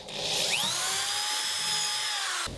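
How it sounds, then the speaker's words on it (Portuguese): A power drill bores a hole into a wooden table leg, its high whine rising as the bit bites and then holding steady and close for about two seconds before stopping. "vai fazer a furação com a broca alinhada com o seu pé"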